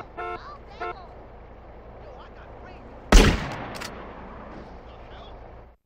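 Gunfire in GTA San Andreas: one loud, close shot rings out sharply over a low game background, and brief voice sounds come earlier.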